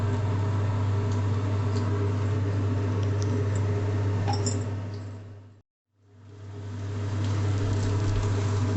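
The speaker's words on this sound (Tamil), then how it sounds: "எண்ணெய் காஞ்சதும் இந்த வெங்காயத்தை போடுறேன்." Onions going into hot oil in a home kitchen for a Tamil veg kofta recipe: a steady, close, broadband sizzle with faint crackles under a constant low hum, briefly cut to near silence mid-way before the frying resumes.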